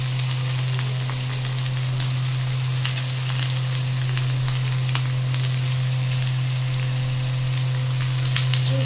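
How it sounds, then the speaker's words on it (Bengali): Potatoes fry in an iron wok tempered with mustard seeds and curry leaves, giving a steady close sizzle with scattered pops and crackles throughout, over a constant low hum and with no voices. "এখন ভাজবো আলু ভাজা, একটু সর্ষে আর কারি পাতা ফোড়ন দিয়ে।"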